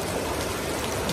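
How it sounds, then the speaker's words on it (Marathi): Monsoon rain pours down outside a wrestling training hall, a dense, steady, close hiss of falling drops with no pauses. "आणि पाऊस चालू आहे बघू आपल्या तुम्ही."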